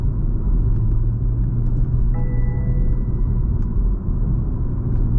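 A BMW M340i xDrive rolls over road bumps with its suspension set stiff, heard from inside as a steady, heavy low rumble of road and engine noise with faint thumps and no talk.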